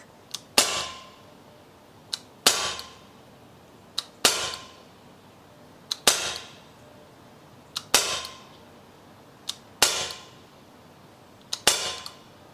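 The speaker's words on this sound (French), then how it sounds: "J'introduis mon chargeur. J'enlève la sécurité. Et je tire." A CZ P-09 air pistol firing 4.5 mm BBs, heard as seven sharp, close single shots at roughly two-second intervals, each a crisp snap with a short decay, in otherwise quiet surroundings.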